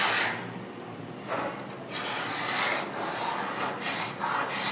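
A hand scraper rasps across stained wooden planking on a 1953 Shepherd Sportsman boat, a close, steady run of scraping strokes with a few brief louder pushes, heard alone with no talk.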